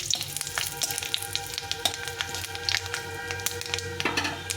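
Panch phoron, about a spoonful of the Bengali five-spice mix, frying in hot oil for spinach: a close, steady crackling sizzle with sharp pops and spits scattered throughout.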